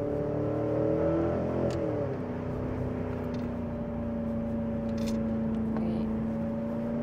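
A Porsche Cayenne SUV of nearly 750 horsepower and 1000 Nm drops a gear; the engine note shifts, then settles into a steady, moderately loud drone heard from inside the cabin.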